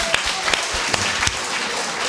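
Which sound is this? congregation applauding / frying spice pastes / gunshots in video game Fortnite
congregation applauding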